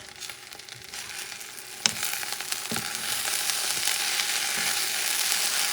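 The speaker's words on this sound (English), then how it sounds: "Stir a little bit." Rice with salted pork stirred in a hot pan, a steady sizzle with scraping and clinking of a utensil, one sharp knock near the start, heard close.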